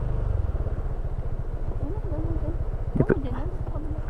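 Motorcycle engine idling close by at a seaside spot, a steady low pulsing putter throughout with a voice talking over it.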